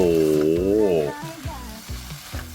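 Beef stir-fried with pickled bamboo shoots and holy basil leaves in a hot pan; a brief voice opens, then close sizzling with rhythmic stirring fills the rest.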